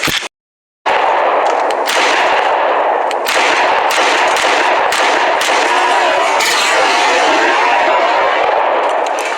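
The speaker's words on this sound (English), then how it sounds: "Let's put another mag of 180 grain SIG range ammo through her." A Smith & Wesson M&P 2.0 10mm pistol fires 180 grain SIG range ammo, a loud close string of rapid sharp shots after a brief silent gap.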